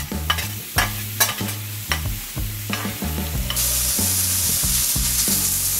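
Six sliced bacon strips fry on a Blackstone griddle, a steady sizzle rising to a loud continuous hiss while a spatula scrapes and tosses them in repeated quick strokes, close up and with no talking.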